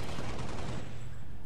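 Weapon fire in the iOS shooter Halo: Spartan Strike, a dense continuous rattle of shots that fades over about a second and a half.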